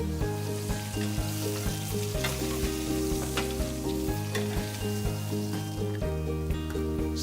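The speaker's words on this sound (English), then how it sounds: "Can you hear that sizzle?" Steaks sizzle and crackle on a hot grill in a dense, continuous frying hiss that stays loud and steady throughout, with no voices.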